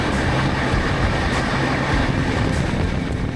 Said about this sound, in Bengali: আমাদের এই ট্রেন